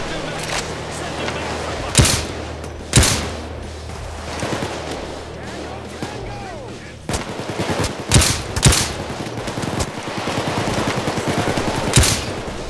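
Gunfire in PayDay 2: sharp, loud shots ring out singly and in short bursts at irregular intervals, with background game noise and a person talking in between.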